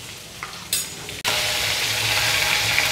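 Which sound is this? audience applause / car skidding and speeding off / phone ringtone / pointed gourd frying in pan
pointed gourd frying in pan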